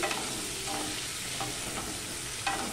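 Potatoes for mutton curry frying in oil in a kadai, a steady dense sizzle with a few brief clinks and scrapes of stirring, close and continuous with no talk.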